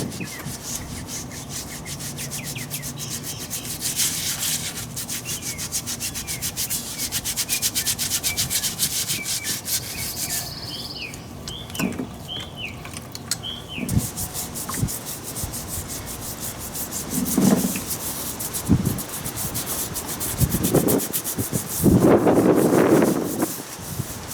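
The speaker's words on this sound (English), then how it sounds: "we're gonna come through with our Scotch-Brite Scotch pad and just come through and clean all the carbon off" A Scotch-Brite pad scrubs carbon off parts from a budget small block Chevy 350 engine build, a steady abrasive rubbing that continues for a long stretch, with a few louder thumps and shifting strokes toward the end.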